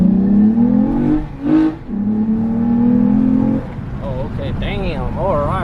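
A Toyota Camry TRD fitted with a Pedal Commander, driven in sport mode on paddle shifters, accelerates hard with a rising engine note, then changes gear into a second climb, all close up, with a voice talking over it.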